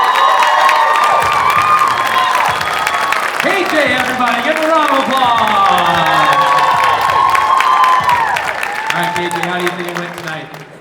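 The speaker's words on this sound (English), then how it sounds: "KJ, everybody, give a round of applause." A crowd at a school idol singing competition claps and cheers loudly for a young performer after an original song, with whoops and shouts over the applause and voices talking through it, fading slightly toward the end.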